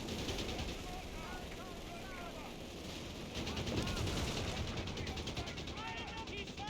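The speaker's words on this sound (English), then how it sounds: "All right, AA gun, opening fire" An AA gun opening fire in a real-time strategy video game match: steady rattling bursts of automatic fire under a busy battle din, with overlapping shots and a continuous rumble, while a commentator talks over it.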